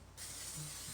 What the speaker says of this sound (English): No stick cooking spray.